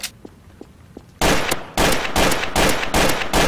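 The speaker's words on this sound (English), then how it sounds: "I heard a gunshot." In the video game Garry's Mod, soft faint clicks give way to a rapid series of loud, booming bursts in quick succession, like repeated gunfire close by.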